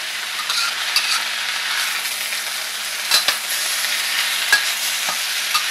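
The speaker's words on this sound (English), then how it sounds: "You're going to make sure that you're mixing the ingredients around to perfect the cooking." Ingredients fry in a pan while being stirred, a loud steady sizzle with a hiss, marked by several sharp scrapes and clicks of a utensil against the pan.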